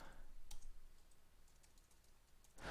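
Quiet, soft key clicks on a computer keyboard form a faint, scattered run of taps over a low background hiss.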